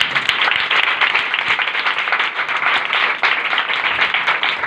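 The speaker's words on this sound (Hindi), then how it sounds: "आए फिर यीशु मसीह के लिए जोरदार ताली।" Loud applause from a congregation at a church service, many hands clapping in a dense, sustained roar at close range with no speech over it.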